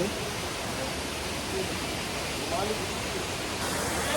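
Steady broadband rush of a forest waterfall with fish in the pool, near a double-decker living root bridge on the Nongriat trek, constant and fairly close with no other clear sounds.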